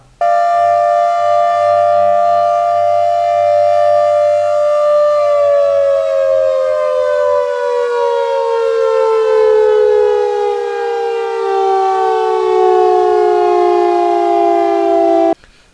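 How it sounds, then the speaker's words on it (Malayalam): A loud dam warning siren at Irattayar Dam wails continuously, holding a steady pitch before sliding slowly downward and sustaining to the end. "ഡാമിന്റെ മുകളിൽ സ്ഥാപിച്ചിരിക്കുന്ന സൈറൺ മുഴക്കിയത്"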